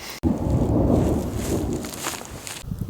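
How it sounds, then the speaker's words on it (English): Deep rolling thunder from a storm moving in over the high desert, a loud sustained rumble after a sharp onset, with rain-like hiss underneath and no talking. "we definitely got some storms coming overhead, so Nika is preparing the tent"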